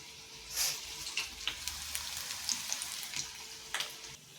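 Bonda sizzling in hot oil, a steady soft crackle with scattered sharper pops and spits throughout, heard close and alone.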